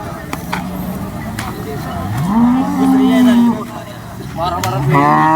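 A cow gives a long, loud moo close by at a cattle market, followed by another rising bellow, with clatter and some background noise around it.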